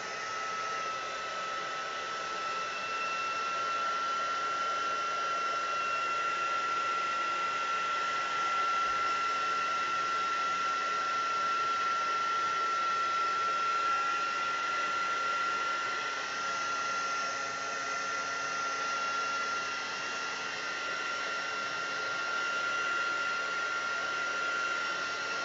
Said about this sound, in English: I think I'm going to give it a blast with the heat tool.